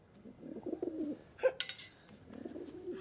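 A pigeon or dove gives a few soft, low coos, close by and fairly quiet, followed by a brief clatter and rustling.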